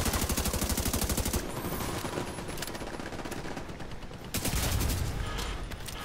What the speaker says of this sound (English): I'm going back to shoot